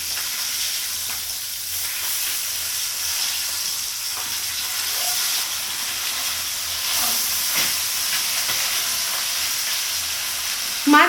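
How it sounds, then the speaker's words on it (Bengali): Pabda fish frying in oil in a pan, a steady loud sizzle and hiss that carries on for several seconds with small crackles and a brief clatter near the end. "মাছ কিন্তু আমরা খুব কড়া করে ভাজবো না, মোটামুটি হালকা ভাজা হলেই হবে।"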